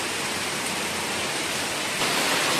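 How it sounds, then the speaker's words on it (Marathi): Heavy rain pours down in a dense, even roar of wideband hiss, close and loud, with no voices over it. "खूप जोरादार पाऊस आलेला आहे"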